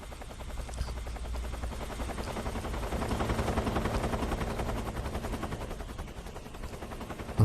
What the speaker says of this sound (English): Where's that helicopter? Sounds very close, to be fair.